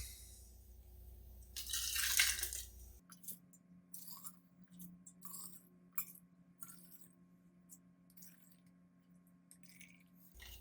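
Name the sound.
ladling homemade chicken stock into canning jars through funnel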